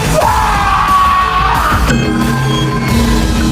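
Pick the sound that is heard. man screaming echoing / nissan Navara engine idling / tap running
man screaming echoing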